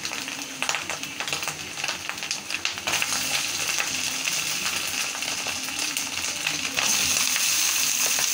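Homemade wheat-flour pasta noodles go into a hot pan and sizzle loudly, a dense, steady frying crackle that swells twice as more is added, with no voices.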